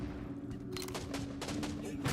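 Shotgun blasts in the Star Citizen video game crack out in a rapid, irregular series of sharp bursts, mixed with game sounds and a low background hum.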